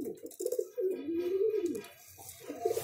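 Old-line Arshad breed pigeon, a hen brought from Chennai, gives a close, clear series of low, rolling coos, swelling and dipping in one long phrase before a second coo starts.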